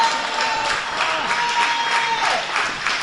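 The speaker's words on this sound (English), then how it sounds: "And he hears it from the crowd here in Charlotte." A wrestling crowd at a live event in Charlotte cheers and applauds steadily, dense clapping with rising shouts, while a commentator's voice runs faintly underneath.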